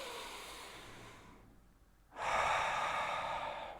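Slow, deep breathing during a calm breathwork exercise: a soft, airy inhale or exhale, then a pause of near silence, then a louder, fuller breath, close to the microphone with no talking.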